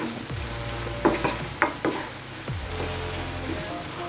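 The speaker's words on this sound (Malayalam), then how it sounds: "ഒരു നുള്ള ഉലുവാപ്പൊടി കൂടി ചേർക്കുവാണ് കേട്ടോ എന്നിട്ട് നമുക്കൊന്ന് ഇളക്കി കൊടുക്കാം" A pinch of fenugreek powder is stirred into eggplant roast in a pan. Close spatula strokes scrape and tap against the pan in a few quick strokes over a soft, steady sizzle.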